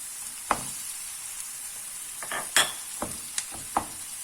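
Kefta meatballs dropped into a hot pan and frying, a steady bright sizzle with several sharp clinks and taps of a utensil against the pan at irregular intervals, close and alone.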